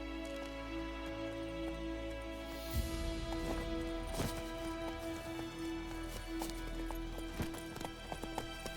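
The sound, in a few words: Geralt's horse Roach galloping in the video game The Witcher 3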